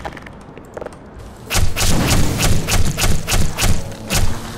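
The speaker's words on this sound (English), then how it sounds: "And we'll just let this homing weapon do it all" A homing weapon in the game Black Mesa fires in a regular series of sharp, loud blasts, about eight evenly spaced shots after a quieter start with faint clicks.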